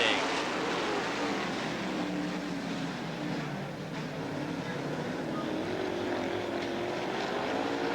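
Race cars at Southern Oregon Speedway roar in a dense, continuous engine drone that stays loud and steady throughout, with a commentator talking over it.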